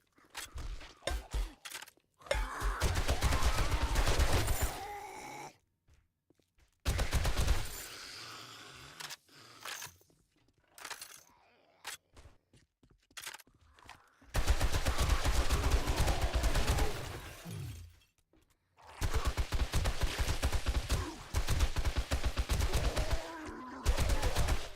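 Rapid gunfire in the survival video game 7 Days to Die, dense bursts of shots repeating in long stretches separated by brief quiet gaps, loud and close throughout with no talking.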